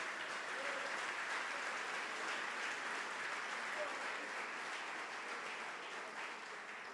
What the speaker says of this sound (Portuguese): Vamos aplaudir a palavra de Deus de maneira condigna.